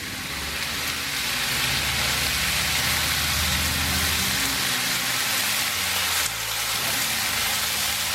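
A passing motorcycle engine drones and rumbles in the background beneath a steady loud sizzling hiss of fajita meat in a wok, swelling then easing off.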